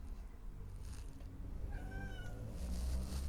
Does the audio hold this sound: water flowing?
no